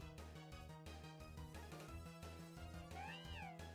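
A cat-like Pokémon lets out a short synthesized cry with rising and falling pitch near the end, layered over looping, rhythmic battle music in a Pokémon Champions random battle.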